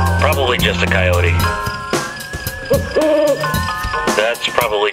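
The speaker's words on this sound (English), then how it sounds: "That's probably just an owl." Repeated owl hoots play as a sound effect from an M.T.H. RailKing O Gauge Halloween diesel toy train set, loud and tonal, mixed with spoken dialogue from the same effects track.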